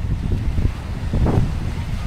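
Wind sweeps across Bonbon Beach in Romblon beside a sandbar at high tide, a steady low roar that buffets the microphone with a stronger gust midway through.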